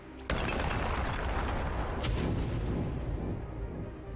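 Explosive rounds detonate in the video game Enter The Gungeon, a sudden loud boom followed by a dense continuous roar of blasts with a second sharp burst midway, then slowly fading.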